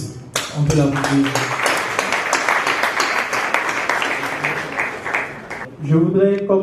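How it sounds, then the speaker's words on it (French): An audience applauds the performer Josias, a dense burst of clapping that lasts several seconds at a steady level, with a voice speaking just before it starts and again as it fades. "Merci Josias. On peut l'applaudir."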